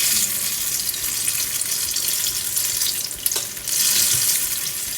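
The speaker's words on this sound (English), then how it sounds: "So fry on medium heat so that the fritters cook evenly." Banana fritters fry in hot oil on medium heat, a dense, steady hiss of bubbling close by, with a brief dip and a soft clink midway.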